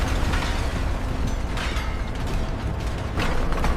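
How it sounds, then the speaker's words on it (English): Heavy industrial furnace doors in a steel forge swing open slowly, a dense, loud mechanical rumble with creaking and ratcheting gear sounds over a continuous roar, no talking. "Furnace doors swing open slowly, releasing a blast of intense heat."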